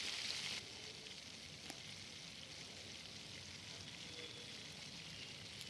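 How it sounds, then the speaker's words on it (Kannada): Spice powder and tomato ketchup sizzle in a hot pan for spicy cabbage rice, a steady close frying hiss with a brief louder burst at the start and no talking. "ಸೊ ಇದು ಪೌಡ್ರು ಮತ್ತು ಕೆಚಪ್ ಎಲ್ಲ ಚೆನ್ನಾಗಿ ಫ್ರೈ ಆಗಬೇಕು"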